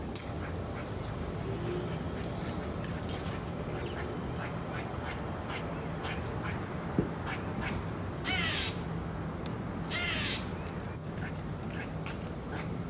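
Male birds crying repeatedly around nest boxes during mating season, a dense chorus of harsh, duck-like and crow-like calls filling the scene with brief louder bursts near and far, no talking.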